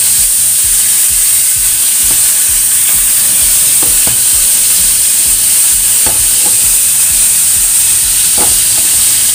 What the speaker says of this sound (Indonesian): Goreng ikan seperti ini ya.